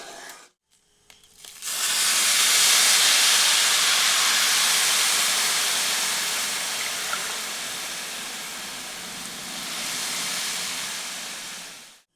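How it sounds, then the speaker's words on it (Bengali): Water poured into a hot cooking pot of pulao rice sets off a sudden loud, broad steaming hiss that holds steady for several seconds, then slowly fades and swells slightly. "তো আমি এখানে পরিমাণ মতো জলটি দিয়ে দিচ্ছি।"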